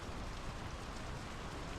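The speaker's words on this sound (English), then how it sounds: "The rain's picking up." Steady rain pours down in the Norwegian setting of the video game Draugen, a dense, even hiss across the whole stretch with no voices and no breaks.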